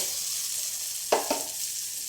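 Carrots fry in a little oil with a soft steady sizzle, interrupted by two quick clatters of a spatula stirring the pan.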